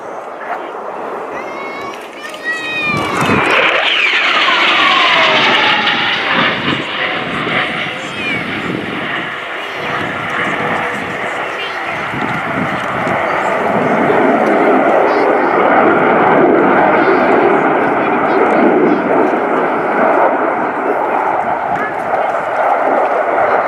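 A Swedish Air Force Saab JAS-39 Gripen fighter jet flies a display at the RIAT 2018 airshow. Its loud roar swells after a few seconds into a sustained, rumbling thunder that surges again later, with an announcer talking over it.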